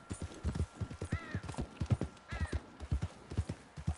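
Horse hooves clopping at a steady trotting rhythm in Red Dead Redemption 2, close and distinct, with a couple of brief whinnies rising over the footfalls.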